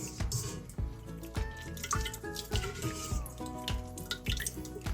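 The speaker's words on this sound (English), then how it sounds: "You want to squeeze it, get as much as that buttermilk out as possible" Quick wet drips and splatters of buttermilk squeezed from homemade butter fall in an irregular patter, close and fairly loud, with squishy liquid sounds and no talking.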